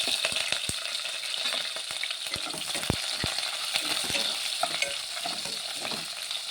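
Moong dal fries in oil with onion and green chilies, giving a bright, continuous sizzle broken by sharp clicks of a spoon stirring the pan, close up with no voices.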